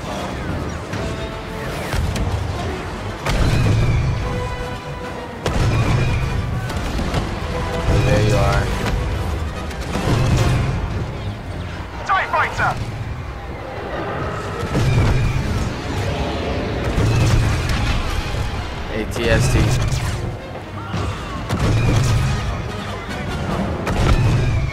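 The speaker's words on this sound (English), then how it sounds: "Where are rocket launchers coming from?" Rocket launcher blasts and battle explosions in the Star Wars Battlefront II campaign, repeated heavy booms and gunfire crashing continuously over loud combat noise, with a voice talking at times.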